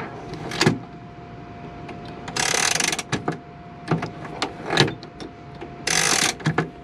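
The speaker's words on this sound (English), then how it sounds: "we've got the handbrake, which is deactivated quite simply" Handbrake on a Mazda T3500 truck being released with a pull and turn, a series of close mechanical clicks and ratcheting rasps in short bursts inside the cab.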